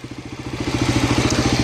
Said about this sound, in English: my bike is running, she's idling, she sounds beautiful